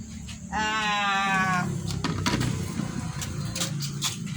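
A cat gives one clear, drawn-out meow near the start, followed by soft rustling and scattered faint sounds.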